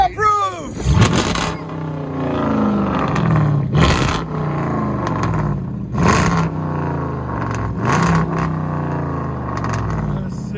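Chrysler 300 with a 5.7L HEMI V8 on straight pipes idling close by, a deep lumpy rumble with periodic sharper blips every couple of seconds, while people talk over it.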